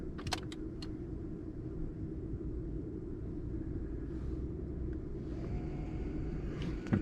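Rear electric brake motors on an Audi A6 C6 wind back the calipers during a pad and disc change, a thin rising motor whine emerging late over a steady low rumble, with a few light clicks at the start.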